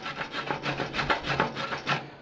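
A brush scrubs slag off a flux-core weld made with a Parkside 90A welder, a close, rapid series of rough rasping strokes repeated about a dozen times in an even rhythm.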